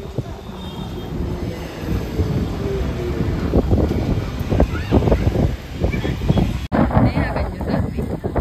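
Strong gusty wind blows outdoors during a stormy spell, roaring and buffeting the microphone in a steady broadband rush with louder surges; voices are faintly mixed in.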